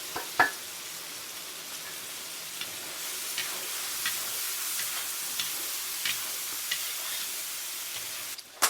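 Liver sizzles in a pan over medium heat, a steady bright frying hiss broken by soft periodic scrapes and taps of stirring.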